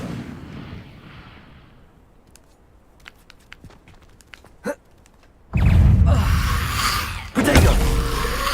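An Incendio fire spell cast during combat in the Hogwarts Legacy video game, heard as a sudden loud roaring whoosh of flame that swells, then surges again, after a quieter stretch of scattered light clicks and a short sharp zap.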